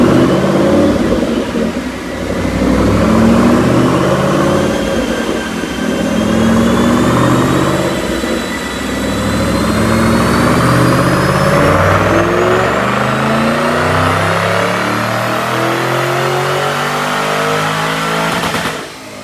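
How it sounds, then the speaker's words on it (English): A 2012 Ford Mustang GT500 with an upgraded supercharger pulley and cold air intake, running the stock 07–12 supercharger, revs hard through a dyno pull: a loud, sustained engine roar climbing steadily in pitch with supercharger whine for nearly twenty seconds, no talk. "Check out this dyno pull."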